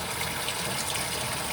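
Water gushes hard and continuously through a house's water lines as they are flushed of crud after a kitchen water-damage repair, with the water heater disconnected. The rushing sound is close and steady, with no voices.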